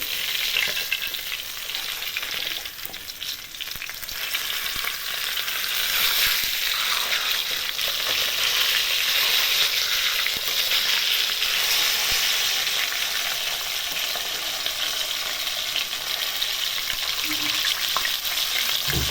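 Crispy Thai-style fish fries in hot oil in a pan, giving off a loud, steady, dense sizzle that runs unbroken throughout.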